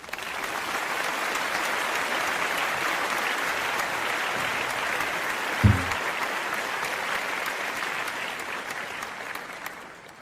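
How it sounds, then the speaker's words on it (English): Audience applause, a steady, full roar of many hands clapping that holds evenly throughout with a small thump near the middle, no speech over it. "Both Ben and Daniel deserve applause for this"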